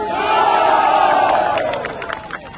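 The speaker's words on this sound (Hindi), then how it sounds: "जबरदस्त तालियां इनके लिए।" A rally crowd cheers and shouts in a loud, sustained roar that swells for about two seconds and then thins into scattered whoops and claps.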